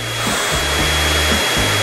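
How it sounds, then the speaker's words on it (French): A hair dryer that is getting tired blows steadily and loudly up close, a constant whooshing roar with a low motor hum that wavers slightly, and no talking. "Je pense que notre sèche-cheveux commence à être un peu fatigué."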